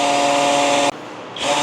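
A cordless battery-powered drill spinning an engine oil pump to prime a new engine build, a loud steady whine that drops off abruptly, then spins back up.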